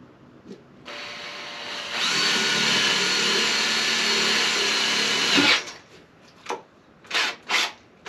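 A power drill whirs for several seconds, its pitch and load shifting as it bores into the center of an oak wagon wheel, then stops, followed by a few short rubbing scrapes.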